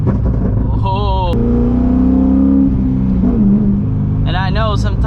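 Exhaust of a custom C6 Corvette rumbles steadily nearby with a low idle burble, while someone speaks over it at the start and end.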